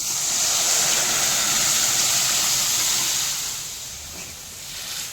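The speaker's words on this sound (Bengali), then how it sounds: "এরপর সিদ্ধ করে ডালটা এখানে আস্তে আস্তে ঢেলে দিচ্ছি।" Boiled dal pours slowly into a pan of tomato and spice masala, a close, steady wet hiss and rush that eases off toward the end.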